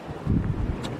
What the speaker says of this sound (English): The wind always drowns me out anyway.